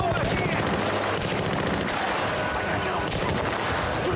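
Dense gunfire from the shooter game Battlefield: Bad Company 2, a loud and continuous stream of automatic fire and overlapping shots that runs without a break through the whole battle, with a voice briefly audible under it.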